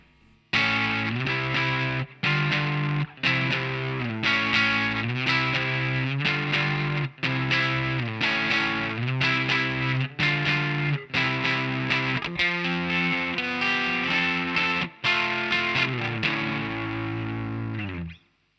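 Heavily distorted electric guitar chugs through the verse-one riffs of a song, two short repeating riff figures joined together, loud and continuous with brief clipped gaps between phrases.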